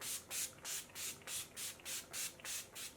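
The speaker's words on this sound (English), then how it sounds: "So I'm just gonna go ahead and spray this." Makeup setting spray spritzed in about nine quick, evenly spaced bursts, each a short airy hiss close to the mic, with no talking.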